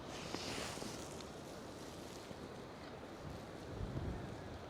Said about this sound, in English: the wind is that strong now, I daren't put the DJI on the tripod because it just gets blown over straight away